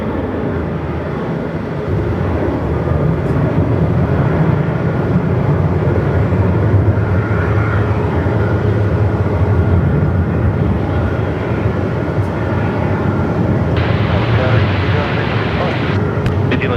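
Aircraft departing Melbourne Airport in winds above 45 knots, a loud continuous engine roar mixed with wind noise while people talk over it.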